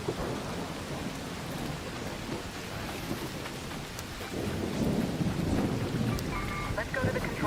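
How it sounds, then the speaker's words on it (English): Steady heavy rain and low rumbling thunder from an electromagnetic storm in the video game Arc Raiders, with the rumble swelling louder midway and faint electronic tones near the end. "an electromagnetic storm is currently raging over topside. Beware the lightning strikes if you're outdoors"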